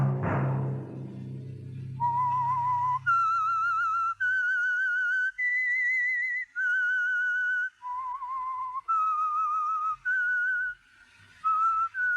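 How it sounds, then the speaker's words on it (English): A fading low note gives way to the theme of The Whistler, a CBS radio mystery sponsored by Signal Oil: a clear, solo whistled melody of sustained pitched notes with brief breaks, close and prominent. "Let that whistle be your signal for the Signal Oil program"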